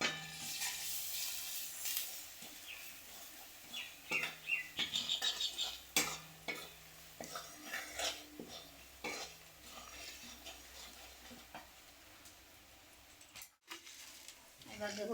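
Turmeric, coriander and chilli powders fry in a pan for rohu fish curry, a faint sizzle under repeated scraping and clinking of a spatula as the spices are stirred, with a voice heard at times.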